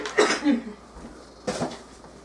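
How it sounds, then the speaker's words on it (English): A couple of rough, chesty coughs from healing lungs, spaced about a second apart, close by, over faint room noise. "My lungs are healing, that's why I'm coughing so much."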